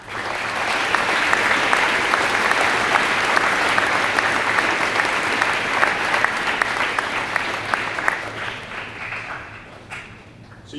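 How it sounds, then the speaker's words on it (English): Sustained applause from a school assembly audience at a Veterans Day event, honoring veterans' family members; dense steady clapping fills the room for about ten seconds before thinning out near the end. "So I'd like to get a round of applause to all the family members."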